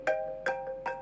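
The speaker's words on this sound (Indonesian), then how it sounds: "ada telepon" Three evenly spaced electronic tones from a ringing phone, each a short bright chime with a brief tail, sounding close and clear against quiet surroundings.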